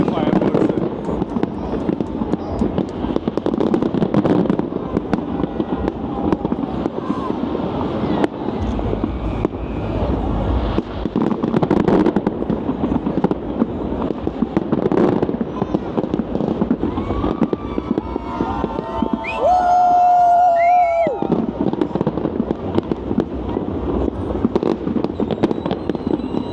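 New Year fireworks burst over Melbourne's city buildings in a continuous crackling, popping barrage heard from nearby, with people talking and cheering underneath.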